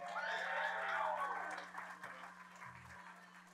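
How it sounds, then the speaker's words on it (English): Applause from a small audience at an Oakes Ames Memorial Hall summer concert, a short burst of clapping that fades quickly into quiet room tone with a low steady hum. "One more round of applause for Al."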